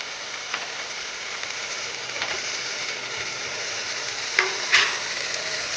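Tomatoes and valor bean seeds sautéing in a pan for a Kathiyawadi curry give a steady soft sizzle, with a couple of brief utensil clicks near the end and no talking.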